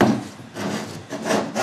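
A chisel lightly scraping across a wood surface with no real pressure, giving a soft, raspy stroke repeated about three times in a close, quiet workshop.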